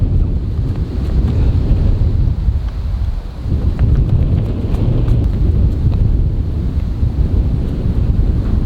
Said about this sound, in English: That wind.